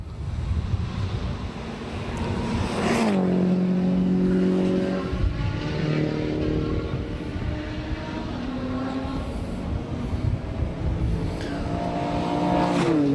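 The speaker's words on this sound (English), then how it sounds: "Right, Stephen, you should be able to hear the cars behind me." Race cars run through a pit lane at a motorsport festival, with a steady loud engine roar and several engines rising and falling in pitch as cars pass close by. No one speaks.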